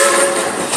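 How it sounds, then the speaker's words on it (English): A train whistle blows on a short ride staged as a Silver Dollar train robbery. One loud, steady, close tone holds throughout over a rumbling train, with no voices. "Hey, Ichabod, I need 3 toots on that whistle, please."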